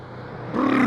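A Porsche 718 sports car engine at a cone-marked driving event: a low steady drone that swells sharply into a loud, rising roar as the revs climb partway through, close by.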